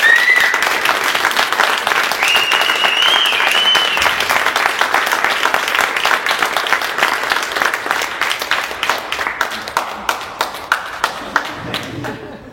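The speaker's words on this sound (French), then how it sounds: "je vous demande à tous de l'applaudir" An indoor audience applauds a staff member named Kevin: full, steady clapping with a few whistles early on, thinning into isolated claps that fade out at the end.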